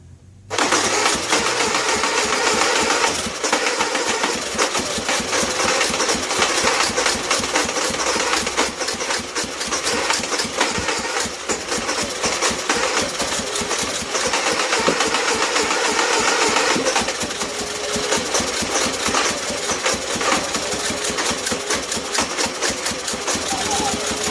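A Honda EU3000is inverter generator engine runs steadily and loudly from start to finish, a continuous mechanical drone with an even buzz and no pauses.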